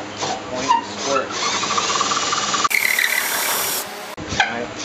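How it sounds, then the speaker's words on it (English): Hand auger bit boring through wood, a close, gritty grinding and rasping that runs continuously with slight rhythmic variation, broken briefly by a sharper scraping burst near the end. "I just need to use my eye and line the auger bit up with the angle"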